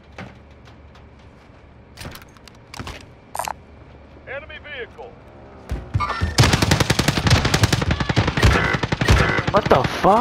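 Gunfire in Call of Duty Warzone, where a shotgun is in use: a few sparse, sharp shots come first, then a dense, loud barrage of rapid shots mixed with other game noises.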